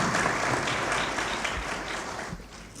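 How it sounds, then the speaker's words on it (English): Audience at a Hispanic Heritage Council breakfast in Buffalo applauds council members, a broad wash of many hands clapping, steady and moderately loud, tapering slightly toward the end. "Can we give them a round of applause?"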